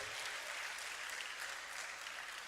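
An audience at a university convocation ceremony, the 18th convocation alumni day at Ladoke Akintola University of Technology, gives steady, dense applause that fills the whole short stretch at an even level, with no voice over it.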